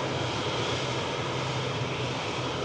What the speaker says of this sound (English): There we go, EasyJet turning the corner there.